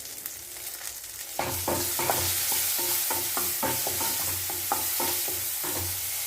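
Chopped onion, mustard seeds and cumin frying in a pot, a steady close sizzle with repeated scraping stir strokes beginning after a quieter opening second.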